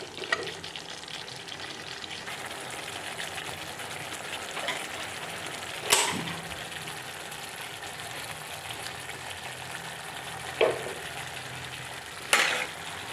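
A mixture frying over low heat in a covered pan, steady soft sizzling and bubbling throughout with a few sharp clinks of utensil or lid, no voices.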